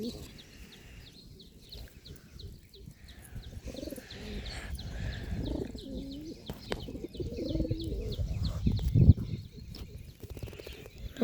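Pigeons coo in soft, repeated low murmurs from close by, mixed with faint chirps and scattered rustling, and a person talks over them in places.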